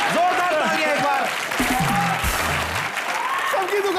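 An audience at a Comedy Nights With Kapil taping gives loud sustained applause for several seconds, while voices talk over the clapping.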